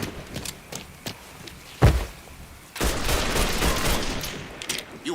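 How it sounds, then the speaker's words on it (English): Gunfire in the Mafia III video game: a heavy burst of shots lands near the two-second mark, then sustained rapid fire with loud cracks and rumbling thumps fills the latter half, with scattered footsteps and thuds between. "Fucker won't stop shooting!"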